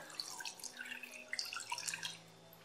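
Water pours into a jar of dehydrated, salted seaweed, a soft, steady trickle with small splashes and drips running for a few seconds, close and quiet, with no talking.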